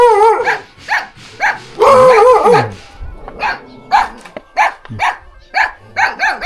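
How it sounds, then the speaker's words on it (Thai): Several dogs in a rural tribal village near the Vietnamese border bark sharply and repeatedly, with a drawn-out howl rising among the loud, close yaps. "เสียงเห่าเสียงหอนแบบโหดเลย"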